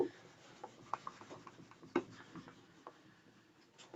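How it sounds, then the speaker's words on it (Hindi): Soft, faint rubbing and scratching of writing being erased from a board, with small irregular strokes and taps at close range and no talking. "देखो अभी हम इरेज कर रहे हैं"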